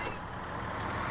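Truck engine in SnowRunner on an Alaska logging mission, a dense, steady, close rumble that holds without a break for a brief moment.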